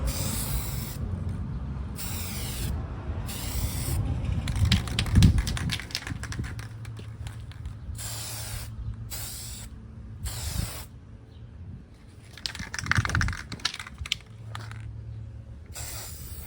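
Spray paint hisses from an aerosol can onto a motorcycle throttle handle inside a booth, in repeated bursts of a second or so separated by short pauses, close and fairly loud.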